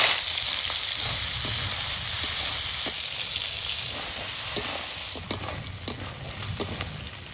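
Crab fries in a pan of hot oil with a pinch of cumin, giving a steady crackling sizzle. Scattered clicks and scrapes from stirring are heard, and no one speaks.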